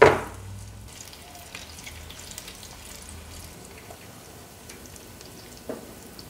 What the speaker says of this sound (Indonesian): Pokoknya kita bolak-balik goreng sampai matang, nanti berwarna kecoklatan ataupun golden brown.